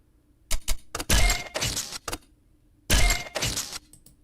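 A software click sound effect heard as a series of sharp, bright clicks and clattering bursts in two irregular clusters, loud and close against a quiet background.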